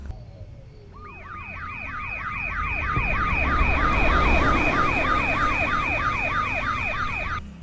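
An ambulance siren wails in rapid repeating up-and-down sweeps, swelling louder as it passes over a rumble of road traffic, then stops.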